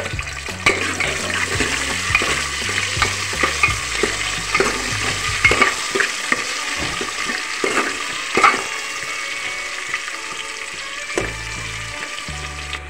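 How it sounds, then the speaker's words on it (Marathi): Finely chopped onion fries in hot oil for mutton curry, a steady broadband sizzle with intermittent scraping stirs and clatters of a spoon against the pan, close and loud with no talk. "तो यामध्ये 1 कांदा चिरलेला आहे मी बारीक, तो सुद्धा टाकून घेणार आहे।"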